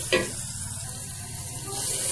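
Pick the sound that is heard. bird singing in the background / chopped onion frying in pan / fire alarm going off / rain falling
chopped onion frying in pan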